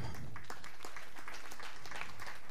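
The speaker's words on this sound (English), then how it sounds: "she gets two-time applause" Spectators applaud an Indian athlete being introduced at a women's 10m air rifle standing SH1 para shooting final in Chateauroux, 2018; the clapping is faint and distant, a thin scatter of claps that continues steadily through the short stretch.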